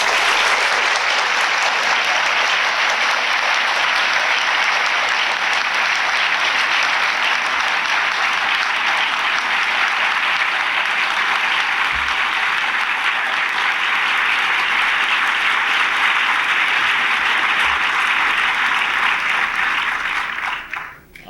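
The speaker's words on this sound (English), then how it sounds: "I feel what you feel with that applause, you may believe" Sustained, loud applause from a conference audience at an address by Judge Robert Bork fills the hall evenly, a dense wash of many hands that continues steadily before cutting off abruptly at the end.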